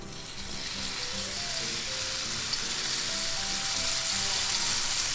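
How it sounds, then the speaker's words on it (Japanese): Bacon and lily bulb stir-frying in a pan, a close, steady sizzle and crackle with faint stirring, continuous and fairly loud, no talking. "炒めましょう。"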